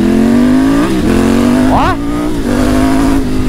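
New motorcycle engine droning loud and close as friends take it for a ride, a steady hum with brief rev rises and dips, voices talking excitedly over it.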